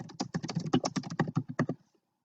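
Rapid typing on a computer keyboard, a dense run of close, crisp key taps for about two seconds before stopping abruptly into silence.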